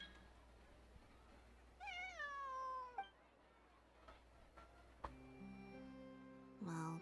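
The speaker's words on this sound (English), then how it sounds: "This is my friend's cat." A friend's cat meowing, one long drawn-out rising and falling meow followed after a pause by a shorter cry near the end, quiet, with a faint steady ticking and tones in the background.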